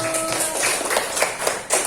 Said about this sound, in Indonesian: Tepuk tangan juga untuk Nur.